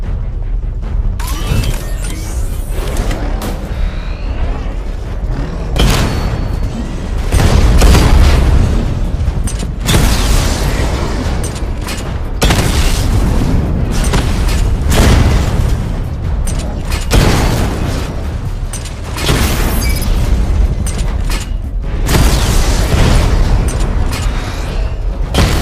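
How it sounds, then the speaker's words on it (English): Missile barrage explosions in the video game Batman: Arkham Knight, played on PS4, come as loud, dense, repeated booms and rumbling blasts that roll on continuously in heavy waves. "Charge up missile barrage to level 2 and destroy 4 active targets to complete diagnostic test."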